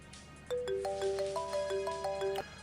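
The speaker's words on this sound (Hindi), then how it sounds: "सर वो एक्चुअली कहीं से फ़ोन आ रहा है" A phone ringtone for an incoming call plays as a clean electronic melody of short tonal notes, stepping up and down in a quick repeating pattern for about two seconds, fairly close and clear over a faint room hum.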